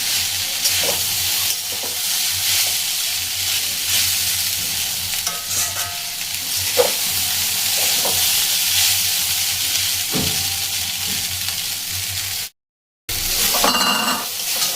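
Flattened rice (chira) sizzles steadily in a hot pan while a utensil stirs and scrapes through it, a close, continuous frying crackle with occasional clinks, broken by a brief cut near the end.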